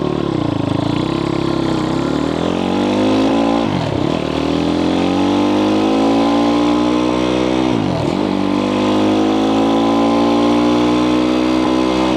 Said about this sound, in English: We got the idle perfect.